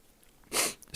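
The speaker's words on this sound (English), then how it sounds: "excuse me, I didn't want to sneeze." A single sharp sneeze bursts out close and loud, cutting into an otherwise quiet room, with a faint breath afterward.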